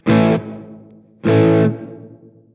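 Guitar played through a stereo reverb preset C with vibrato on a Sonicake Matribox 2 multi-effects unit: two strummed chords, each ringing out briefly and then decaying into a wavering, shimmering tail.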